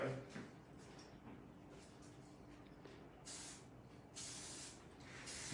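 Thermal spray hisses from a can into hair during a blunt bob cut, with a few longer bursts, the last two strong and steady, over a quiet salon background.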